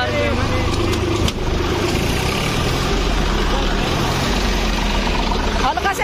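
A tractor engine idles in a loud, steady low rumble with a continuous mechanical drone that is close and unbroken, while people talk over it outdoors.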